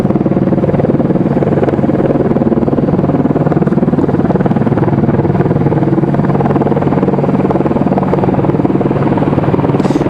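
A helicopter hovers near Raleigh-Durham International Airport, its rotor throbbing in a loud, constant low churn that stays steady throughout, close and alone with no voices.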